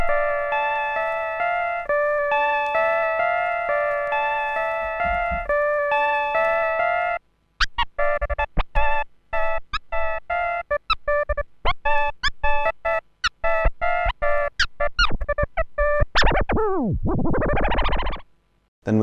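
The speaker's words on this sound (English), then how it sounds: "Then there's this cool mellow sounding analog synthesizer." A mellow analog synthesizer sample from a vinyl plays steady sustained tones for several seconds. It then breaks into a rapid run of short staccato stabs and ends with a swooping pitch sweep, loud and with no talking.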